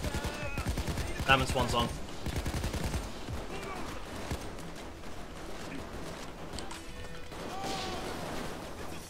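Shotgun blasts in the co-op heist game Payday 2, a cluster of loud overlapping gunfire bursts with crashes, heard under a player's brief talk.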